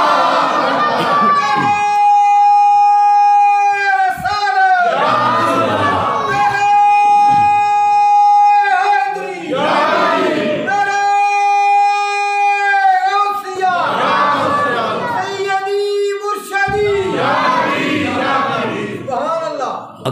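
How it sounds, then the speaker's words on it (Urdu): A crowd at a religious gathering answers a slogan with loud, drawn-out collective shouts, repeating in waves between bursts of amplified speech, with a reverberant, echoing public-address tone. "بلند آواز نعرے دا جواب دیا کرو"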